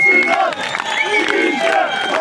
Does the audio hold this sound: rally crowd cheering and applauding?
yes